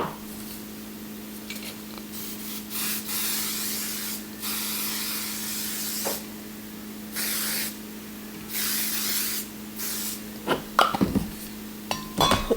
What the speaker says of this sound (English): Now we're going to take our Paul Mitchell hairspray.